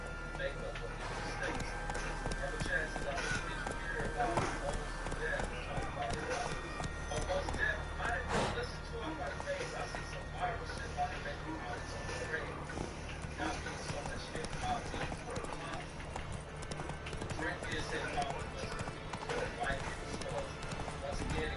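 Clip-clop hooves of the horse Roach galloping in the video game The Witcher 3, a steady rhythmic pounding that runs throughout at moderate level beneath ambient game sound and occasional speech.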